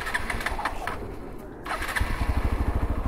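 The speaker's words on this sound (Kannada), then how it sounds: "ಇಲ್ಲಿಂದ ಈಗ ಬೈಕ್ ರೈಡ್ ಮಾಡಬೇಕಂತ ಇದ್ದೀನಿ." A motorcycle engine starts at the outset of a bike ride, coughing briefly into life and settling into a loud, close, throbbing idle with a steady rhythmic pulse.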